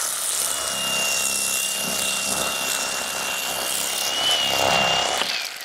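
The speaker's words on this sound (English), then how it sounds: "So I have an electric fillet knife." An electric fillet knife saws through a striped bass, giving a steady, loud motor buzz with a high whine that shifts slightly as the blade works, running continuously without talk.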